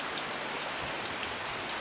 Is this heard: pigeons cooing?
no